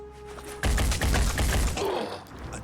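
A rapid, evenly spaced burst of weapon fire in the strategy shooter Terror from the Void, loud and close, running for about a second over a low game hum before tailing off.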